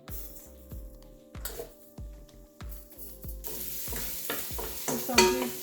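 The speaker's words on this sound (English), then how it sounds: "Add in our cumin for both." Cumin stirred into a hot pan of oil for mung dal and long squash sabji, a steady sizzle broken by rhythmic scraping strokes of the spoon, close and fairly loud, growing busier toward the end, with no talking.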